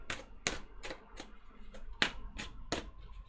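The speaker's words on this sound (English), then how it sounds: "Another shuffle for the connection, please." Tarot cards are shuffled and riffled in a series of crisp, quick flicks, about seven taps close up, fairly quiet.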